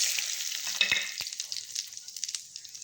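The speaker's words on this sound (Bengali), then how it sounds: "ফোড়নটা একটু ভাজা ভাজা করে নিব।" Whole cumin seeds and bay leaves fry in hot oil in a wok, a steady bright sizzle throughout, broken by a few sharp stirring clicks and scrapes close by.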